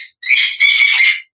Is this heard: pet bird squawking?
yes